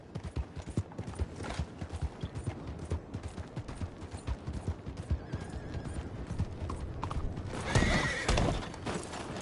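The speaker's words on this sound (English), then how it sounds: "don't look at my phone as I'm riding a horse" A ridden horse clip-clops along in a steady rhythmic series of hoofbeats, fairly close, with a brief louder burst of noise near the end.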